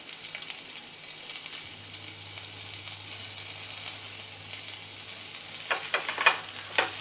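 Chilies and ginger sauté in a pan for breakfast akoori, giving a steady, moderately loud sizzle with a low, constant hum beneath and a few sharper crackles toward the end.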